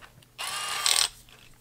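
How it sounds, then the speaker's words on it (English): The ratcheting metal chuck of a Metabo 12V PowerMaxx drill clicks rapidly in one burst of under a second, close and fairly loud, with quiet before and after. "it has a nice loud ratcheting chuck"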